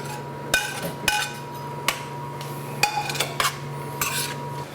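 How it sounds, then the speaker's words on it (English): Sausage and other ingredients for split pea soup dropping into an Instant Pot, a few sharp clanks and clinks of a utensil against the metal pot, fairly quiet and close. "Now I've got this mixed up pretty well, and I put the sausage in."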